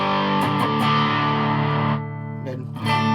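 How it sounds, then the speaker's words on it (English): Distorted electric guitar through a TRIO Band Creator pedal on its rock setting, a loud sustained crunchy chord ringing on, dipping briefly near the end before swelling back. "if I go to rock, for example, the red one is a bit of distortion"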